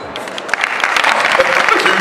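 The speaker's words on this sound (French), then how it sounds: "J'aimerais qu'on applaudisse maintenant" An audience claps for a collective at a slam and music concert, the applause swelling from scattered hands into a loud, full round that holds strong to the end.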